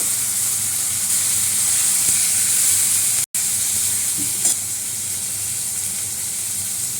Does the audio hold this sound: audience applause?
no